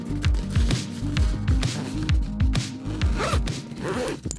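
A zipper on a microphone carrying case is pulled in repeated quick rasping strokes, close and fairly loud, with no talking.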